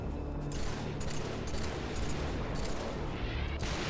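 Gunfire in the Halo 3 video game, a dense, continuous barrage of rapid shots and rumbling blasts at a fairly low level throughout, with no voice over it.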